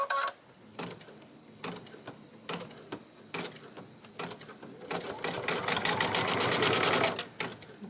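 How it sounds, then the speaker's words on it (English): A home sewing machine stitching a zipper tack down on a bag, running in short slow bursts of rapid needle clatter with pauses, then a longer faster run near the end. "I'm going to stitch the tack down, and then I can move the zipper pull back over."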